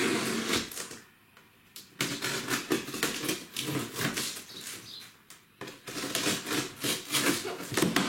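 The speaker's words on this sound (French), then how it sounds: "parti pour le déballage du carton" Cardboard packaging for a KEF Kube 12 MIE hi-fi subwoofer being opened, with crinkly rustling, tearing and flap handling in bursts broken by short pauses, close by and fairly loud.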